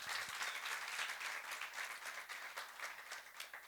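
Audience applause at a book launch event, a steady wash of many hands clapping throughout, moderately distant and even in level with no talk over it.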